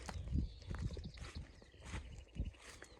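A pregnant mare walks on a farm, her hooves clip-clopping in an uneven rhythm of close, heavy thuds over faint background noise.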